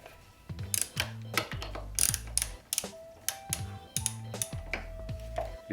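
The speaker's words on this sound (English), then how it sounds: "get a 6mm Allen key and loose up the bars" A 6mm Allen key loosening the handlebar clamp bolts on a Yamaha YZ426F fitted with Pro Taper bars: close, repeated metallic clicking and ratcheting turns in short bursts, with no voices.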